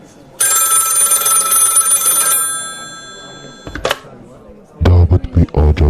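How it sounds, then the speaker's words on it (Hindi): An old-fashioned telephone bell rings loudly in a long continuous burst of about two seconds in a quiet room, followed by a brief click and then some low thumps and handling noises. "11 बजे फोन की घंटी बजी।"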